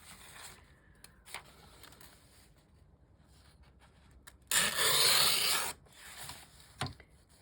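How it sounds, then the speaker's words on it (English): Paper being torn by hand for a butterfly journal, with one loud, sustained ripping sound lasting about a second and close by, set among quieter rustles and handling noises. "so if I tear it about right there"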